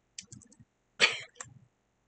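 A single short, sharp cough bursts out close by, bracketed by faint soft clicks before and after, with no talking.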